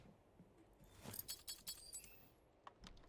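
A short jingle of keys clinking together, bright metallic chinks in a few quick bursts against a quiet background.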